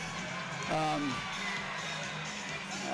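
A busy arena crowd at a Birmingham Bulls versus Evansville ThunderBolts ice hockey game keeps up a steady roar of cheering and whoops, with a commentator's voice talking over it throughout.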